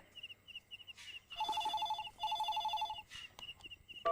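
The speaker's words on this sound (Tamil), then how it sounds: "ஃபோன் அடிக்கிறது பாரு" An old-style telephone rings indoors in a classic Tamil TV serial scene, with bursts of bright electronic double rings repeating across the clip at moderate loudness, while faint background sounds sit beneath and no speech is heard.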